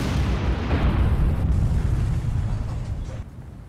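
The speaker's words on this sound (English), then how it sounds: "every explosion spreads the fire even more" Naval explosions in the game War on the Sea roll together into a continuous loud, deep rumbling boom that fades slightly toward the end.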